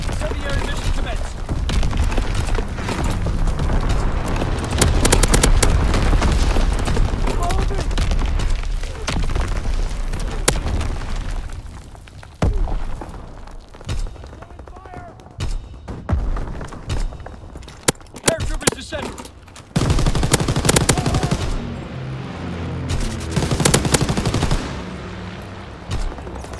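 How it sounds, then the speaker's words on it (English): Artillery and incendiary bombardment in Call of Duty WW2: loud, continuous gunfire and explosions, with machine-gun bursts and heavy booms layered densely, easing briefly mid-clip before another dense barrage. "Firing division artillery."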